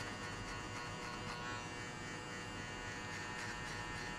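Electric hair clippers hum steadily and close up throughout a barbershop fade haircut, a continuous even buzz with no talking.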